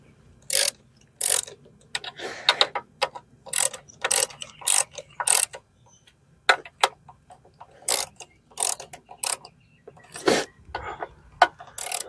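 Ratchet wrench clicking in repeated bursts of sharp ticks while a throttle body is replaced on a 2014 GMC Acadia 3.6L, close and loud with short pauses between strokes.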